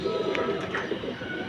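A Giribaj pigeon coos softly a few times in close succession, low and throaty, fairly near with little else around.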